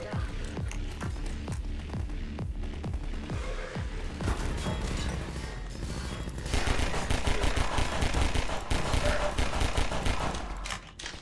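Pistol gunfire in Half-Life 2, a rapid run of sharp shots in the first few seconds followed by dense, loud continuous combat noise and crashing, with a faint voice underneath.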